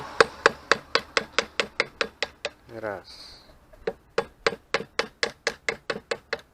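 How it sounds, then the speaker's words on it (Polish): A hammer taps a screwdriver to knock retaining pins out of a section of a Termit orchard sprayer distributor, a fast, even run of sharp metallic knocks that pauses briefly for a short spoken word, then resumes. "No to śrubokręt, młotek i one ładnie wychodzą."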